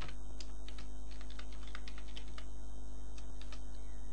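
Rapid, steady keystrokes on a computer keyboard while code is typed into Flash's Actions panel, the clicks close and clear over a constant low electrical hum.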